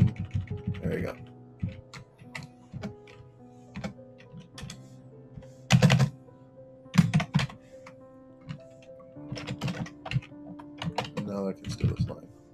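Code being typed on a computer keyboard, bursts of clicky keystrokes with a few heavier thunks, close up over a steady low background hum.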